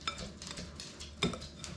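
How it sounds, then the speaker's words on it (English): A spoon stirring BBQ rub spices and sugar in a bowl: soft scraping and gritty swishing, close and quiet, with two sharper clinks of utensil against the bowl. "Just mix this all up."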